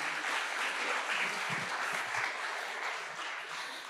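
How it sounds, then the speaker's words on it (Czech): A live audience at a Czech talk on disinformation at Meltingpot 2022 claps steadily for a volunteer called up on stage, a dense, even wash of applause filling the room throughout, with no speech over it. "zatleskejte mu."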